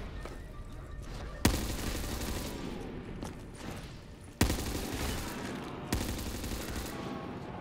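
A Browning machine gun fires in Black Ops 3 custom Zombies in loud sustained bursts; three sharp onsets each open a rapid, continuous volley that runs for a second or more.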